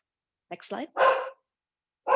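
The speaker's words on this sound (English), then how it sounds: "I apologize if y'all can hear my dogs barking in the background." Several dogs barking in the background at a home, a few short bursts spread through the moment, with someone speaking briefly over them.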